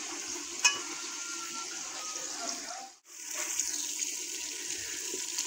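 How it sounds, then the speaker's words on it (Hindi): Onions frying in oil in a pan, giving a steady, soft hiss of sizzling that runs throughout with a brief drop near the middle. "ये मैंने ऑयल डाल लिया है प्याज में, और प्याज को करती हूँ हल्का ब्राउन।"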